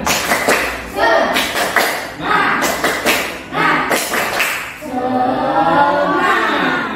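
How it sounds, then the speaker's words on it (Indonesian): A class of students claps out a rhythmic spirit cheer in sharp, close bursts of claps and thumps, with voices chanting along and taking over toward the end. "kita melakukan tepuk semangat"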